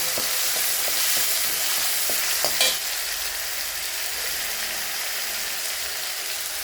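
Food frying in a pan with a steady broadband sizzle throughout, close and fairly loud, with a few soft stirring clicks near the start and no talking.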